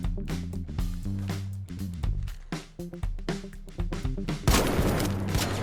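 El Toro shotgun fitted with a kinetic converter mod firing in the Arc Raiders video game, a rapid run of sharp blasts layered over game music, ending in a louder burst of noisy report near the end.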